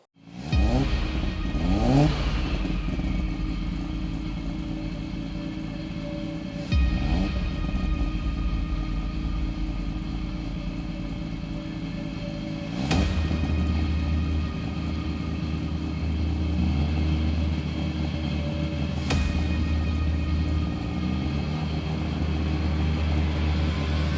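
A modified car with a built engine and sequential gearbox revs hard, with loud repeated bursts of engine roar and gear changes, each surge rising and falling, then a deep idle rumble between blips, with no talk.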